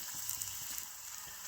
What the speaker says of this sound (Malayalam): ഒരു 10-15 സെക്കൻഡ് ഒന്ന് വഴറ്റുക.